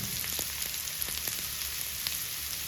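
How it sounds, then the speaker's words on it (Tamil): Onions and tomato sautéing in a pan for a spicy brinjal curry, a steady close sizzle with a few soft spoon scrapes and taps, no voices. "வெங்காயமும் தக்காளியும் ஒன்றா மிக்ஸ் ஆகிற வரைக்கும் கொஞ்சம் நம்ம வதக்கிடுவோம்"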